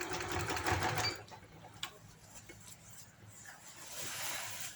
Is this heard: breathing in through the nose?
no